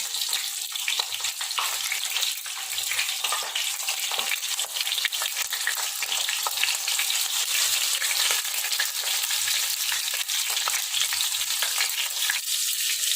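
Paneer tikka pieces deep-frying in a pan give a dense, steady sizzle that stays loud and close throughout, with faint occasional taps as pieces are turned.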